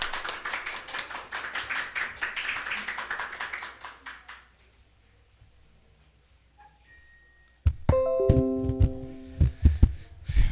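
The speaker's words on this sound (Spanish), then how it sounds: "les pido un aplauso para recibirlo" Small audience clapping to welcome a speaker to a talk on chiropractic, a loose spatter of hand claps that thins out and fades into near silence after about four seconds, followed by unrelated tapping and knocking.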